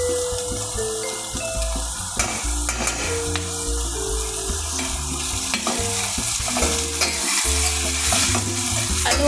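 Onion frying and being stirred in a pan for chicken with pineapple, with continuous sizzling plus scraping and clattering from the utensil against the pan throughout.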